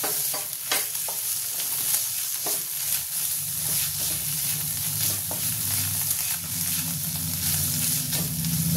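Ginger and garlic are stirred in oil in a frying pan for Bengali mutton kosha, a constant loud sizzle with scraping spatula strokes and soft clicks, close and uninterrupted, with no talking.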